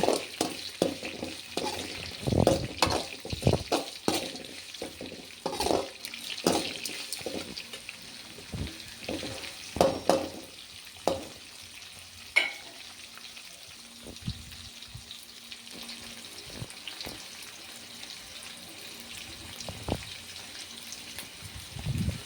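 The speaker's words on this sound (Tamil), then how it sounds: "கட் பண்ணி வச்ச வெங்காயம் போட்டுக்கலாம் பூண்டு கொஞ்சம் தட்டி போட்டுக்கலாம் நல்லா வதக்கிடுங்க" Onions and crushed garlic sizzle and fry in a pan, with repeated clanks and scrapes of a spoon stirring between quieter stretches of steady sizzling.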